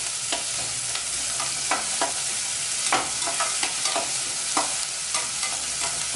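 Eggplant and potato sizzle and fry in a pan for a Chettinad chutney, with a spoon scraping and stirring in irregular strokes, steady and close.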